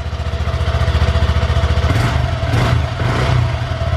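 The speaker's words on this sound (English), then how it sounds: "So that's what the stock exhaust sounds like." A 2020 Honda Grom motorcycle with its stock exhaust runs steadily, a quiet buzzing engine drone with a fast pulsing rhythm and a slight rise in revs near the end, heard up close and alone.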